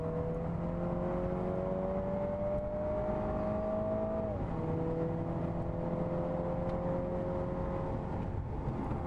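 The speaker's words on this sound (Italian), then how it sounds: "Nella parte più sinuosa del ring apprezziamo la possibilità di gestire il cambio automatico, più rapido in accelerazione che in scalata" A Mini Cooper S with automatic gearbox laps the Nürburgring, its engine droning steadily from inside the car, then dropping pitch sharply at a gear change before settling into a steady tone again.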